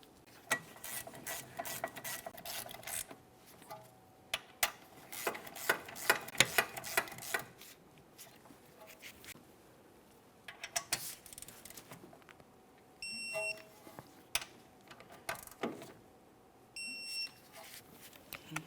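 Clicks and ratcheting from a torque wrench tightening rear brake caliper bracket bolts on a 2017-2024 GMC Acadia, sharp close taps in irregular bursts with quiet gaps, a few electronic beeps near the end.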